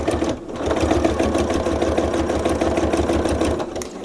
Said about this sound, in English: I'm going to sew all the way down to that pivot point.